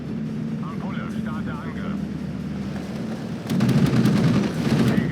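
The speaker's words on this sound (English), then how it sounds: "you can actually strafe things with your fighters and it's perfectly viable" Fighter planes strafing ground units in a war video game (Steel Division 2 historical battle): a steady hum of aircraft and battle ambience gives way, about two-thirds through, to a louder burst of rapid gunfire and impacts, with a voice narrating over it.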